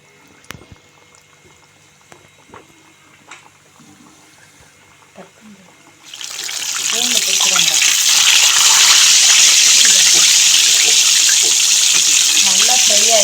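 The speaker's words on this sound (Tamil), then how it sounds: "இப்போ இதை எண்ணெயில் போட்டு பொரிச்சுக்குவோம்." KFC-style chicken pieces drop into hot oil and fry with a loud, steady hiss and crackle that starts abruptly midway and continues, preceded by quiet kitchen sounds.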